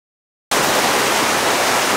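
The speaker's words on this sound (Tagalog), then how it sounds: "Lakas na ulan." After a brief silence, a loud, dense wash of steady hissing noise begins abruptly, like a heavy downpour close by, with no voices.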